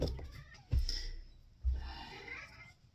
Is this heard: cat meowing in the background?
yes